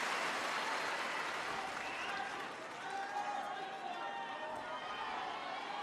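A large stadium crowd at the Australian Open tennis final keeps up a steady, dense roar that sounds like booing, holding at an even level for the whole stretch.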